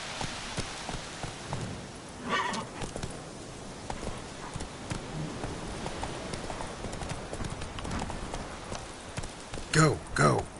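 Hooves of the horse Roach clip-clopping steadily at a walking pace in The Witcher 3, under rain pattering on the ground, with a voice speaking briefly near the end.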